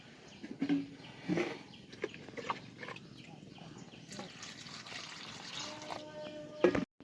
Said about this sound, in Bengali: আমি এবার আলুগুলো ধুয়ে নেব।